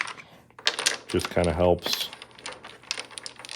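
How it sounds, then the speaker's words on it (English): A double-six set of Micarta dominoes with brass center pins is shuffled on a surface, giving rapid clattering clicks and a dense burst of spinning tiles while someone talks over it. "And, again, with that pin as you're shuffling them,"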